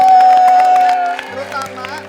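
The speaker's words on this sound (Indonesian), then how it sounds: "Tepuk tangan dong buat mereka semua" Studio audience applause on an Indonesian TV talk show, a burst of clapping and some cheers over a sustained musical tone that fades into softer, scattered clapping.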